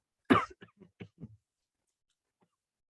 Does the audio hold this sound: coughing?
yes